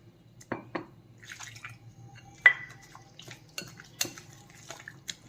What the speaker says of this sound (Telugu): ఇప్పుడు మొత్తం అంతా కలుపుకోవాలి.